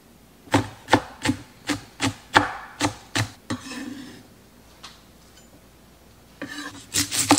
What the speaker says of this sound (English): I have one fresh jalapeno. I'm gonna de-stem it and de-seed it just to make it not quite so spicy.